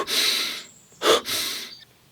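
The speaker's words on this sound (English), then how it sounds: "So you would want to breathe like this." Forceful energizing breaths through the nose, a long loud rush of air, a short sharp burst, then another long rush, close and breathy with no talk.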